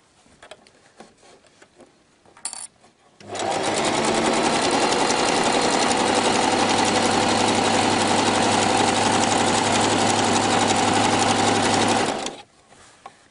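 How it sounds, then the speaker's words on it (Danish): A sewing machine running a three-step zigzag stitch over an elastic band, a few faint clicks and a short whir, then a loud, even, rapid mechanical hum for about nine seconds before it stops abruptly. "Og så skal vi altså sy vores tristing zigzag her hen over båndet"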